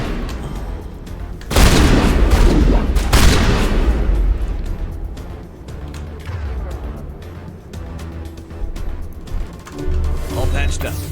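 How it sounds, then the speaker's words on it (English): Shotgun blasts in Mass Effect, two heavy booming shots close together followed by scattered gunfire and combat noise, with a voice talking underneath. "Shotgun time."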